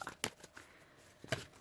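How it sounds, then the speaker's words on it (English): A deck of tarot cards being shuffled, heard as faint, close riffling snaps and soft papery rustles in a quiet room. "She says as she continues shuffling on camera."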